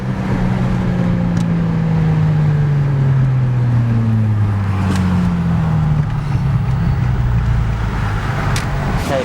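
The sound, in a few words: Porsche Cayman downshifting with GT3 shifter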